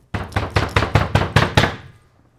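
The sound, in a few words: voice imitating knocking on a door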